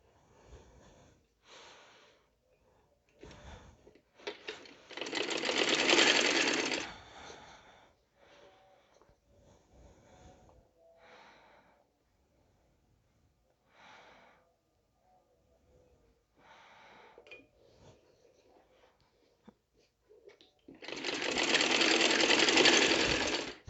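Sewing machine stitching a patti strip onto the chak daman hem of a kameez, running in short bursts with two longer loud runs, near and clear with no talk.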